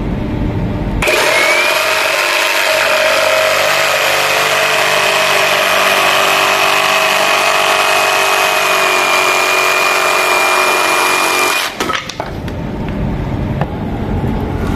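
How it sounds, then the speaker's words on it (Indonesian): A cordless DongCheng DCMQ85 jigsaw cuts at a 45-degree bevel on speed setting 6. It gives a steady, loud, buzzing whine that runs without a break for about ten seconds and then stops abruptly. "Sekarang kita coba lakukan pemotongan di bevel 45 derajat di speed 6."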